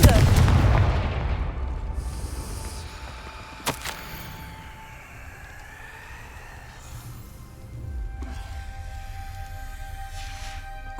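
Fire spell blast from Hogwarts Legacy, a sharp burst at the start trailing into a rumbling roll, then a brief crack and quieter magical ambience with swells of tone afterward.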